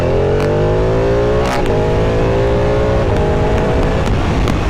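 Ducati 959 Panigale superbike engine howling at full throttle in race mode, loud and continuous with rising pitch through the gears and brief shift breaks, heard from on the bike with wind rush.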